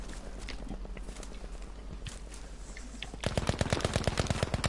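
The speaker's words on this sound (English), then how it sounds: "I hear gunfire." Rapid bursts of automatic gunfire in the video game Battlefield 5 crackle continuously, growing louder and denser in the final second, with scattered single shots mixed in.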